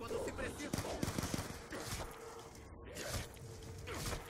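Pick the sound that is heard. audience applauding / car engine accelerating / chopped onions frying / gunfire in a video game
gunfire in a video game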